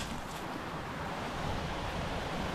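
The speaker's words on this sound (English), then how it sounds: "pull anything out of this nice, beautiful creek here" A mountain creek in the San Gabriel Mountains in winter rushes steadily and close by, a constant broad hiss of flowing water with no voices.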